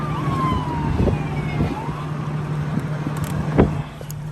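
Passing state trooper police car with siren wailing as it sweeps by on a road during a chase, a steady tone with a falling pitch over traffic rumble, moderately near, with a brief louder burst near the end.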